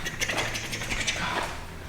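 Clutch pedal of a 1993 Nissan NX2000, with a repaired clutch cable, pressed down by hand, giving a short run of close mechanical clicks and creaks in a quiet space.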